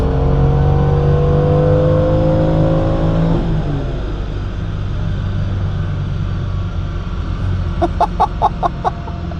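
Maserati 3200GT twin-turbo engine on a dyno, loud sustained revving that drops off, followed by a quick burst of sharp popping bangs near the end.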